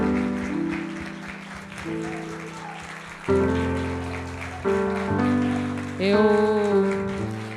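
Steady crowd applause with dense clapping over sustained music tones, continuing for several seconds.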